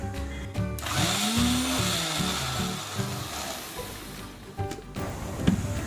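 A kitchen mixer grinder whirs as it blends grated coconut with cardamom for coconut milk, a loud, steady motor drone that dips and labors briefly before shutting off near the end.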